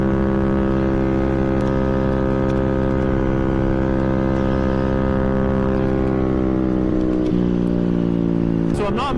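A modified Maddog 50cc scooter engine runs flat out at about 48 mph, a loud, steady high-revving drone with a strong harmonic whine that stays constant before briefly shifting near the end.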